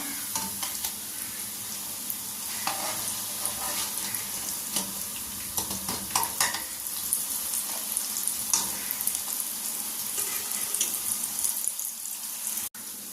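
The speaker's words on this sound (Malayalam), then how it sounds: "അപ്പോൾ അതേ എണ്ണയിൽ തന്നെ ഞാൻ ഈ മാവും കൂടെ ഇട്ട് കൊടുക്കുകയാണ്." Jackfruit seed murukku dough deep-frying in hot oil, a dense, bubbling crackle that holds steady and close for the whole stretch.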